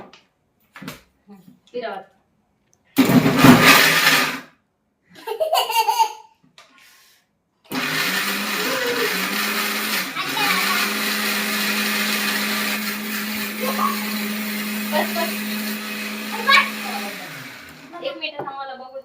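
Kitchen mixer grinder whirring steadily for about ten seconds, close and fairly loud, after short loud bursts and scattered laughter and talk from a family at home.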